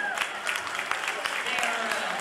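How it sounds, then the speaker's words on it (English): An audience at a charity kickoff event on a pier gives a short round of applause, moderate scattered clapping with faint voices mixed in. "would you please give them a round of applause?"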